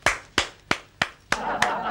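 Six crisp hand claps at a steady rhythm, close and distinct. The last few land over a rising background murmur of voices.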